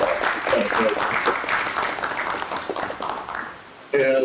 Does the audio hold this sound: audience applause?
yes